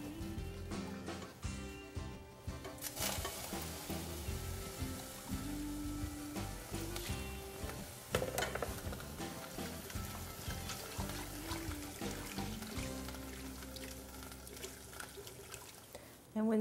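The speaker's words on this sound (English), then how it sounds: "I'm going to add some more stock." Stock pours into a pot of simmering gluten-free gumbo, giving a steady, close splashing and bubbling sizzle that carries on without a break for about sixteen seconds.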